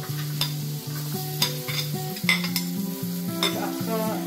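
Onion and capsicum sauté in butter in a pan with a steady sizzle broken by regular spatula scrapes and light clinks, over a soft melodic backing.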